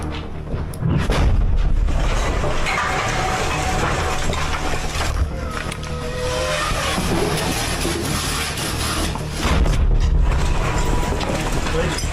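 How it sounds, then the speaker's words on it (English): A heavy FPV drone strike detonates nearby in a war zone, a deep booming blast with crackling debris and rumbling aftermath, followed by further thuds and shaky mechanical clatter. "FPV въебало"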